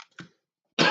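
A livestreaming game developer coughs, with a short harsh cough near the start followed by a louder, denser burst at the end, close to the microphone with silence between.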